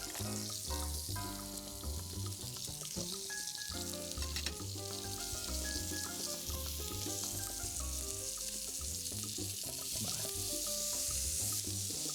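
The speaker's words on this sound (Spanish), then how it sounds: "controlamos que se vaya dorando parejo y que el ajo no se queme" Halved garlic head and beef loin browning together in a frying pan give a steady, close sizzle that runs throughout, with music playing underneath.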